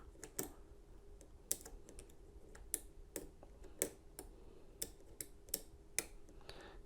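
Faint, irregular metallic clicks from a Lishi HU66 pick working inside a Volkswagen lock, a sparse run of small ticks heard up close and quiet, with no talking.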